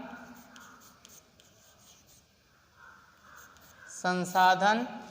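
Chalk or marker scratches on a board in a Class 10 geography lesson, soft rhythmic strokes under faint room noise, then a teacher's voice speaks briefly near the end.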